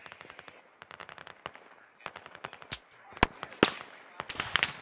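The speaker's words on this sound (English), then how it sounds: "We're taking fire." Gunfire in the military shooter game Squad: rapid bursts of automatic fire and sharp single shots crack in irregular clusters, some close and loud, others lighter and more distant, with no talking.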